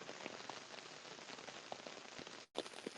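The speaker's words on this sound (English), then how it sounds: "So it's really raining." Dense, constant patter of heavy rain falling on surfaces, a steady hiss with scattered drips, heard alone with a brief break near the end.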